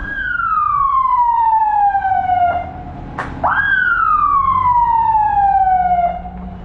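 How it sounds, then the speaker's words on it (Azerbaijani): An ambulance siren wails outside, a loud, near siren with two long falling sweeps and a short break between them, over low traffic rumble. "Çöldə təcili yardım maşınlarının səsləri"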